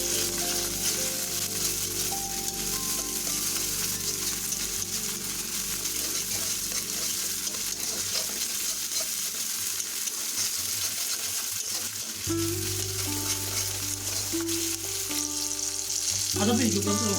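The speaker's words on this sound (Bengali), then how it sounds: "আদা পেস্ট যোগ করার পর 2 মিনিট ধরে লো ফ্লেমে কষিয়ে নিচ্ছি" Ginger paste sautés over a low flame in a wok, making a continuous, even sizzle with light stirring. A hum of sound around the cook sits underneath, and a few soft clinks come near the end, with no speech.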